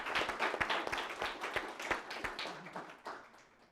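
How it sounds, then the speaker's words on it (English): Panel audience applauding, a modest round of individual claps with distinct sharp hits over a softer wash, fairly faint and tapering off toward the end. "So please join me in giving our panel a big round of applause."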